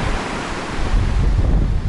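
Sea surf rolling in during a light storm off a Black Sea beach at Lazarevskoye, Sochi, a steady broadband wash of breaking waves mixed with wind buffeting the microphone, growing a little louder in the second half.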